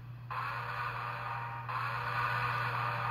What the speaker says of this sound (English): You can hear some steam being let off right now.